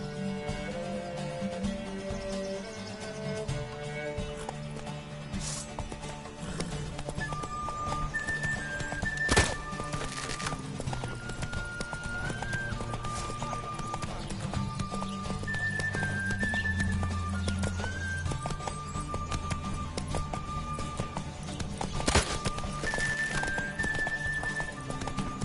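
A horse in The Witcher 3 video game gallops with rapid, rhythmic hoofbeats and lets out a few neighs, all set under steady background game music.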